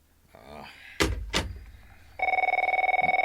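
After a few knocks and thumps, an old telephone bell rings in a steady rapid trill, loud and close, starting partway through and continuing to the end.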